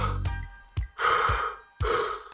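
Sharp inward mouth breaths for a beatbox inward snare: three separate hissing gasps, close and loud, with short silent gaps between them and a faint low voiced hum at the start.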